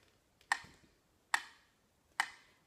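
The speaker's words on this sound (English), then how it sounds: "With the metronome, it sounds like" A metronome ticks three times at an even, moderate pace, each click sharp and close, with a short ringing decay, alone in an otherwise quiet room.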